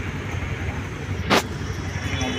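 Inside an auto-rickshaw on a ride toward Begumpet railway station, a steady low engine drone and road rumble fill the cabin, broken by one brief sharp burst of noise partway through.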